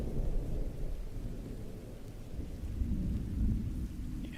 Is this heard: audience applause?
no